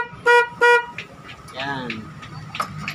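Two short, loud honks from a newly installed car horn in quick succession, followed by background chatter and faint shop noise.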